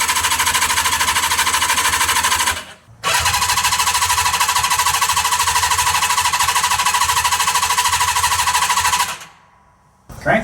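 A small engine cranks over with its fuel shut off, a loud rapid chugging churn that runs in two long bursts with a brief pause between, close by, then stops.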